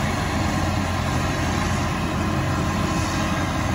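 A truck engine idles at a grain harvest, a steady low rumble with a constant drone running unbroken and fairly loud, no voices over it.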